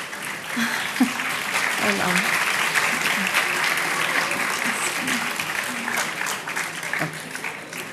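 Students and faculty applauding at a chemistry lecture event, a loud, dense, continuous round of clapping that fills the whole stretch with a few voices faintly underneath.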